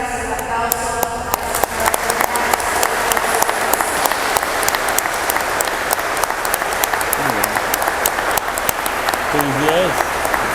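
Audience applause fills a hall, dense continuous clapping with sharp individual claps standing out, while voices talk faintly beneath it toward the end.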